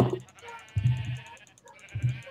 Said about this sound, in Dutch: Ik ben bezig om schaap te vermoorden.